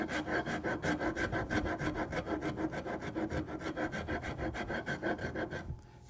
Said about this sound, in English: back and forth with the rasp to start getting that to pop out a little bit. This is a half round rasp